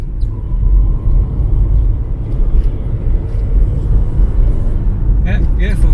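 A 1980s Citroen BX on a test drive gives a steady, close, low engine and road rumble from inside the cabin, with a brief higher squeak near the end.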